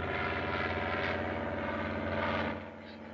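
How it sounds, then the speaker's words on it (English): A propeller airplane drones overhead in a 1930s film scene, a loud steady engine roar that holds for about two and a half seconds before dropping off quickly. "That won't hurt you. It's only an airplane."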